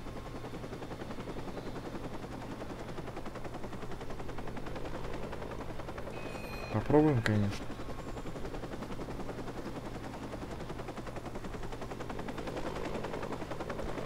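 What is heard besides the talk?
helicopter in the video game Watch Dogs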